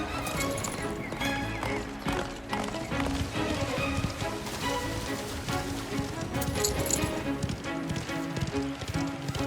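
Horse hooves clip-clop steadily and busily in the video game Mafia The Old Country, several horses running together, with faint rain-like background texture and no talking.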